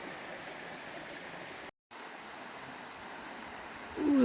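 A mountain stream on the Long Trail rushes steadily, a broad continuous wash of flowing water heard up close with a very brief dropout, and no voices.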